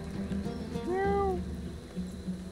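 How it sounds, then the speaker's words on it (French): A cat in the video game Divinity Original Sin 2 gives a single clear, rising-then-falling meow, close and distinct over a quiet game ambience. "le chat il va se mettre au pied, il va faire miaou."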